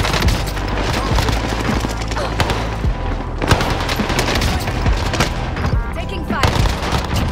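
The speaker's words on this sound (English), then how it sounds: "Cluster strike arriving." A cluster strike in Call of Duty Warzone brings dense, continuous explosions and gunfire, loud and chaotic throughout with heavy low booms and overlapping shots.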